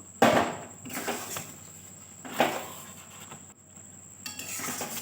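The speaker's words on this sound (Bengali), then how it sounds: "ওই গুঁড়ো মশলাটা দিয়ে দিলাম দিয়ে ভালো করে মিশিয়ে নেবো" A spoon stirs ground roasted spice mix into raw mango chutney in a pan, making a few scraping, stirring bursts with quiet gaps between them and no talking.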